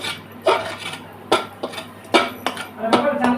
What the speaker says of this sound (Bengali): দিয়ে আর একটু নাড়াচাড়া করে দেবো।